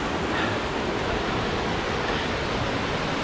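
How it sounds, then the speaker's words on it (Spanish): Water crashes down a waterfall at the Guayongo pool, a close, loud and steady broadband roar that holds unchanged from start to finish with no voices. "para poder mostrarles la cascada"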